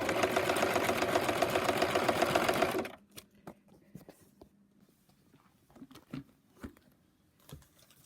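A sewing machine runs steadily at close range for about three seconds while stitching foundation paper-pieced fabric for a Japanese comb block, then stops, and soft handling clicks and rustles follow.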